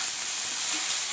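Half a large onion fries in oil with cinnamon, cloves and bay leaf for Hyderabadi chicken curry, a steady bright hiss of sizzling that fills the short moment without pause.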